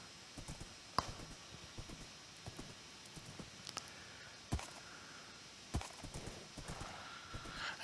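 Horse hooves clip-clopping at a walk while being ridden outdoors through leaves, irregular muffled thuds with a few sharper knocks, fairly close and quiet, and no one speaking.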